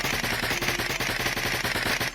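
Sustained automatic fire from a first-person shooter weapon in an Unreal Engine 5 game, a rapid, evenly spaced burst of loud shots lasting about two seconds before cutting off.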